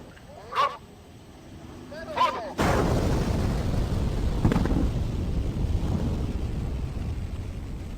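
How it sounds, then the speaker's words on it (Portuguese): A heavy construction blast for the Baluarte Bridge booms out suddenly and rumbles on for several seconds, preceded by two short horn honks in the distance. "A primeira grande detonação é ativada"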